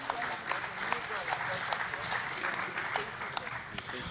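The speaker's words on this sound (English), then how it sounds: "Please, a round of applause for them." An audience at a stakeholders' forum applauds with a soft, even patter of clapping and a few sharper claps standing out, heard at a moderate distance in a hall.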